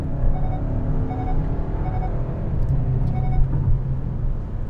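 Kia K5 GT Line sedan accelerating to overtake on the road, a steady close engine and road-noise rumble that rises gently in pitch throughout, with no talk.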